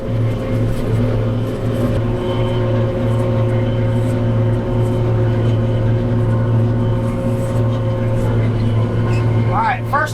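A tractor engine drones steadily while mowing a field, a constant low hum with strong harmonics, with a voice talking over it.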